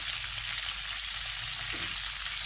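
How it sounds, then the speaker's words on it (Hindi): Smoky chandan kebabs fry in a pan over moderate heat, making a dense, continuous hiss and crackle of sizzling oil that stays steady and close throughout, with no voices. "मैं इसको फ्राई कर रही हूँ।"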